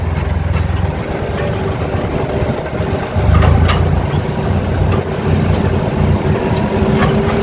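A Valmet 885 tractor engine running on the road, a loud, steady diesel drone with a low rumbling hum that swells slightly partway through and keeps going without a break.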